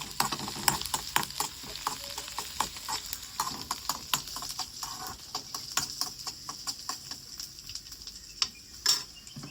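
Small onions frying in a pan give a steady sizzle with many sharp crackles and pops and some scraping, fairly close and fairly quiet, with no talking.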